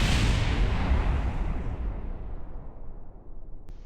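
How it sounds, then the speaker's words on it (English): A rocket blows up in Kerbal Space Program with a loud, sustained roaring explosion that rumbles and slowly fades over several seconds. "Pick up thrust, and we explode."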